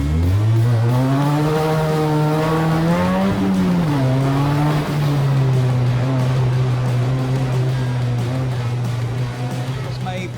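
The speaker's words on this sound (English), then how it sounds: "First time driving the Formula V1 car, and I have to say I really enjoyed my time on the slalom course" A Formula V1 race car on a slalom course drones loudly and steadily, engine pitch rising then easing through the corners while the sustained roar stays close and dominant.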